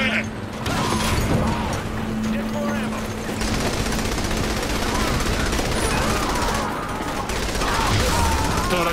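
Sustained automatic gunfire and explosions fill a Saints Row The Third battle, a dense, loud, continuous clatter with game characters shouting over it.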